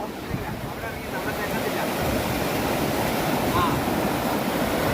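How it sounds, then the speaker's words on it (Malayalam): Strong river current rushes in a continuous broadband roar of flowing water, loud and close, with faint wind buffeting the microphone. "ഇതാണ് കൂട്ടുകാരെ നമ്മുടെ വെള്ളത്തിന്റെ ഒഴുക്ക് അതിശക്തമായ ഒഴുക്കാണ് നിങ്ങൾ ഈ കണ്ടുകൊണ്ടിരിക്കുന്നത്"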